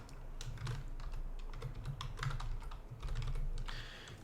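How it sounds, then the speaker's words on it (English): Quick bursts of typing on a computer keyboard, close and fairly quiet, with irregular key clicks and a brief faster flurry near the end, no talk. "I can just type"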